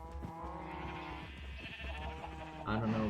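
Sheep in Minecraft give several wavering bleats, one after another, clear and close, ending with a louder, higher call, while someone talks in the background.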